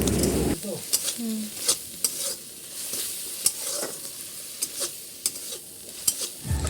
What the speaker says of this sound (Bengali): প্রথমে এখানে পেঁয়াজ আর রসুনটা একটু ভেজে নিচ্ছি